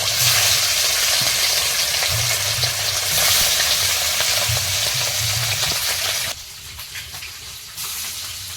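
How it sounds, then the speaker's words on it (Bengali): River fish coated in salt and turmeric fry in hot oil in a wok, a loud continuous sizzle and crackle that drops to a softer, quieter spitting near the end. "মাছগুলো একবারে ভেজে নেব"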